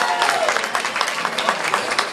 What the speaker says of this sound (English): give these guys one big round of applause